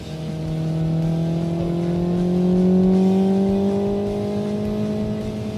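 A steady synthetic engine drone with rising harmonic tones, like a racing game's simulated motor sound, swelling slightly and holding constant throughout with no talking.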